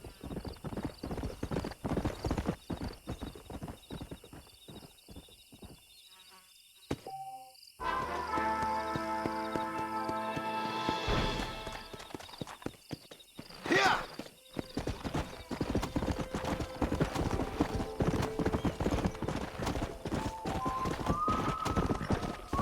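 A stallion in Red Dead Redemption clip-clops with steady, close hoofbeats, breaks into a whinny partway through, then trots on under ambient game sound and a voice speaking.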